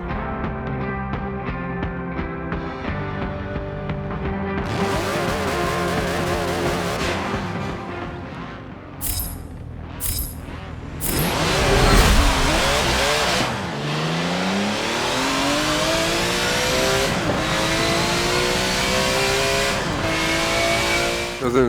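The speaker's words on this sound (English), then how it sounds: "That was an insane tire spin launch right there." A 1987 Porsche 962C race car in Forza Motorsport 7 howls at high revs before a drag launch, then erupts into screeching tire spin and climbs through gears with a loud, sweeping engine wail.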